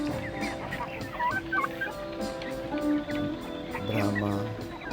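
A flock of Brahma, Rhode Island Red, Plymouth Rock, Light Sussex and Lavender Orpington chickens in a breeder area clucks and calls over one another in a busy, steady chorus at close to middle distance.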